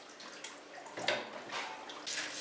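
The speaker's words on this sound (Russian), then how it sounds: "Далее семена просто промывают водой," Running water splashes and trickles in short, uneven bursts close by as melon seeds are rinsed under a tap.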